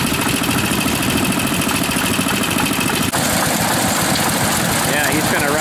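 An old Iron Horse stationary engine runs at an outdoor pioneer power engine and tractor show, a loud, steady close-up chugging drone that continues without letup.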